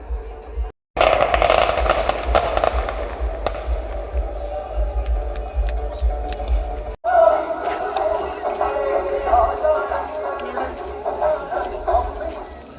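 Firecrackers burst at a festive village gathering in Puramannur, Malappuram, a dense crackling barrage with sharp pops that runs almost continuously, broken by two short silences, with a dog barking faintly in the background.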